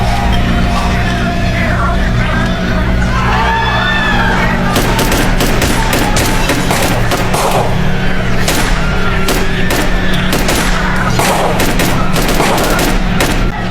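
Gunfire erupts against an octopus-like tentacle monster that has burst into a seaside bar in a horror film, with dense bursts of shots and thuds over a loud, constant low rumble of score and chaos.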